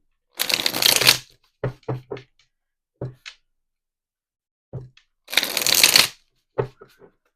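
Twisted Oracle cards shuffled by hand in two long riffling bursts, each followed by a few sharp taps and slaps as the deck is squared and cards are laid down, close and crisp with quiet gaps between.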